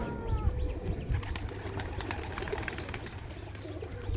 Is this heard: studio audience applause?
no